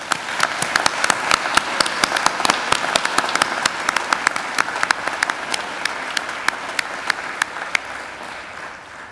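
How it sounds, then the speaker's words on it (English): Sustained audience applause at a university graduation ceremony, steady clapping from a large crowd filling the hall, with individual claps standing out close by. "Please join me in giving them a round of applause."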